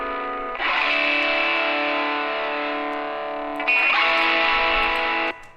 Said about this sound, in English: and this reverb.